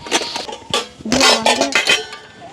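A lid snaps and clatters onto a food container, a few sharp close clicks and knocks of hard plastic or metal in quick succession, loud and without talk.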